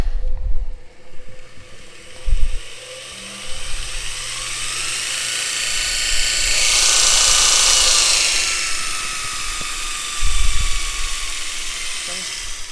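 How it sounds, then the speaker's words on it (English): The motor of a Trick-Tools multitool belt grinder spins up to a loud, steady whine and hum that swells in the middle and then eases, with a few low thumps and knocks at the start and end. "So now you're ready to fire up the motor."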